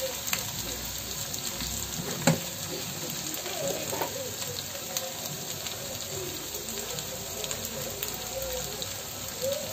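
Ginger, garlic and turmeric sautéing in hot oil for a prawn gravy, a continuous soft sizzle with occasional stirring scrapes and a brief clink, close and steady.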